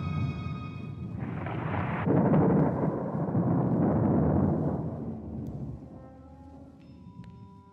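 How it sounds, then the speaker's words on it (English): A deep rolling rumble of thunder swells and fades, with a steady wash of rain-like noise underneath. "As they ate, they heard storm gathering."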